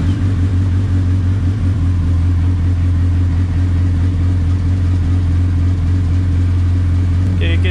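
Hayabusa motorcycle engine with 20,000 miles runs steadily during a throttle body sync, a close, constant low rumble at idle with no clear revving surges.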